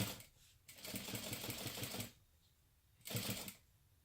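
A sewing machine top-stitches beside a zipper on a small beauty bag, running in a fast rhythmic chatter for over a second, pausing, then sewing a short burst again, close and clear with no talking.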